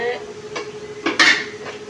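A cooking pot of fried onions lifted off a stove, with a few metallic clanks and scrapes of cookware, one louder clatter near the middle, close and distinct with no talking.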